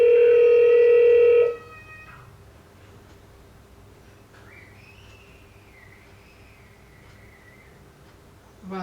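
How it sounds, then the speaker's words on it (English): An EZVIZ wireless security camera gives a steady electronic tone like a phone ring for about a second and a half, followed by a quiet stretch with a faint, wavering high beep. "I don't know why it's ringing like a phone call like this"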